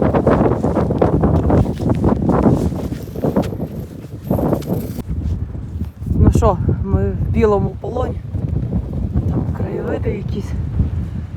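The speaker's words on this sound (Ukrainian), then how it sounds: "Вітряно." Gusty mountain wind in winter on Khomiak in the Carpathians buffets the microphone in heavy rumbling bursts, with people talking over it in the second half.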